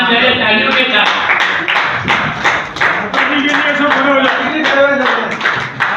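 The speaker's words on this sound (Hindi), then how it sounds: "आप खड़े होकर सम्मान करें तालियों के साथ" An audience claps together at a foundation-day ceremony held in a college auditorium, a steady, full round of applause that lasts throughout, with voices mixed in underneath.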